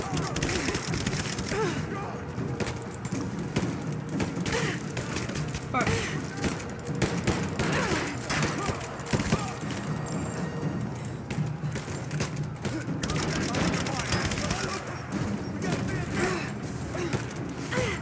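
Sustained, dense gunfire and explosions from Rise of the Tomb Raider crackle loudly and continuously, with thumps and shouting voices mixed in.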